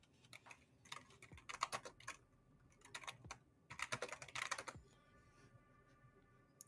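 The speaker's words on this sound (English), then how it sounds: "I'll type it in real quick." Fingers typing on a computer keyboard, quick clusters of close, crisp key clicks with short pauses between bursts.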